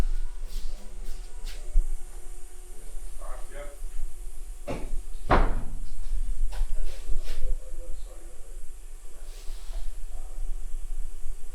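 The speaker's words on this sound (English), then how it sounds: "if you open that door, you should hear it closing." A door swings shut on its own under its closer, ending in one sharp latching thud, with faint voices and a steady background hiss around it.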